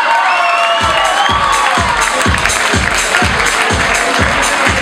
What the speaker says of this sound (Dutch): En een hartelijk applaus voor de laatste finaliste Miss Fashion 2016